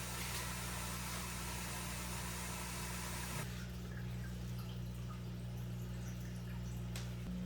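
Water pours steadily into a 75 gallon aquarium, a continuous rushing wash that drops in level partway through and settles into a softer trickle with a faint low hum beneath it.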